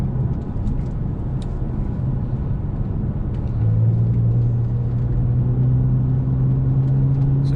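Steady engine drone and road rumble from inside a 2015 Audi S4 driving on a bumpy road, loud and continuous, with the engine note rising slightly partway through as it accelerates.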